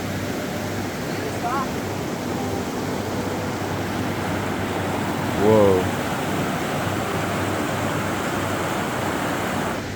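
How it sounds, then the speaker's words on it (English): A babbling stream in Grand Teton National Park keeps up a steady rushing wash of water, with a brief exclaimed voice heard over it midway. "crossing babbling streams and wooden bridges"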